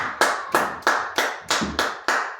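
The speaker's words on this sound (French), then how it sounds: "Acclamons très fort le Seigneur" Church congregation clapping together in praise during a service, seven loud, evenly spaced bursts of applause in a steady rhythm with no voices.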